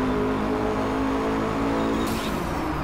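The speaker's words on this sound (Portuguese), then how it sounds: "ronco do McLaren P1" A McLaren P1 3.8 V8 biturbo hybrid in the racing game Drive Club roars at a steady high pitch, loud and close, with a brief bright swell near the end and no talking.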